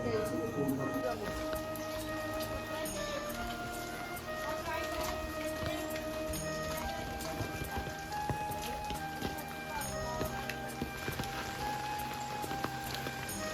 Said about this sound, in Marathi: खूप पाऊस आहे